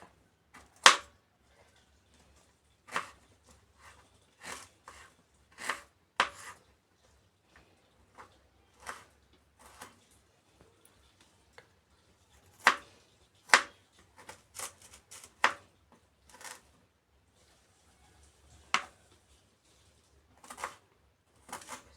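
Small piece of ginger being cut into fine bits with a knife, heard as sparse, sharp taps on a board in irregular bursts, some quick double strikes, fairly close and quiet with no talking.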